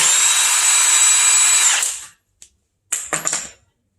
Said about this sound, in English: so it's probably the lobes hitting the lifter